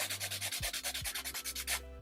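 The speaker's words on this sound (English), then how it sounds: "I'm gonna go back in with the 180 grit nail file, and I'm just going to file the side walls" A 180 grit nail file rasping across builder gel nails in quick, close back-and-forth strokes, a rhythmic scratchy sanding that stops abruptly near the end.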